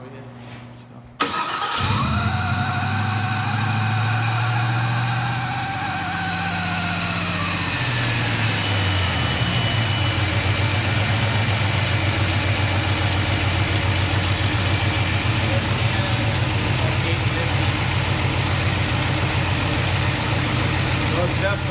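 Chevrolet K5 Blazer engine cranking and catching after a loose spark plug was fixed, then settling into a loud steady idle with a brief rev falling off early; a voice speaks over it.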